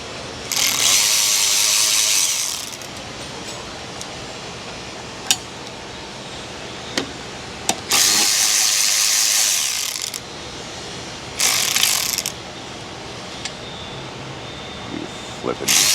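Ratchet tightening oil pan bolts on a 2006-style Chevy Express 2500 with a 6.0 engine: three loud bursts of rapid clicking, each a second or two long, separated by quieter stretches with a few sharp clanks.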